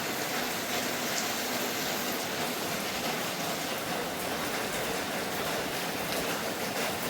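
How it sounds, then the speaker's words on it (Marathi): Light drizzling rain outdoors makes a steady, even hiss that holds unchanged for the whole stretch, with no voices. "तर असा बघा आता झिरमिर पाऊस आहे अजून चालू."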